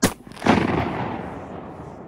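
Two shotgun blasts go off outdoors during a North Carolina goose hunt in Harnett County. A sharp first crack is followed half a second later by a louder, booming shot that rolls away in a long fading echo.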